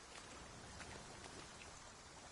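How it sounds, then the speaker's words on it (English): Steady, faint rain falls in the video game Dragon's Dogma 2, a soft even hiss of drops with no other sounds or talk. "But look at the rain."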